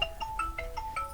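A phone ringtone plays a quick, bright electronic melody of several short tones, clear and close, with no voices.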